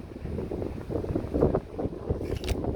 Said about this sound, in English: the wind is very, very strong.